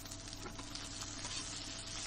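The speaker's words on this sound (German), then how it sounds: "Das Öl heiß machen und dann die Zwiebel und den Lauch in den Topf geben." Onion and leek frying in hot oil in a cooking pot, a steady, close hiss with crackling and bubbling that continues without break and with no talk.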